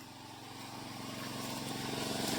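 A small engine-driven sprayer for mango trees runs in a Konkan orchard with a steady, rapid putter. It sounds fairly distant and faint, slowly swelling louder.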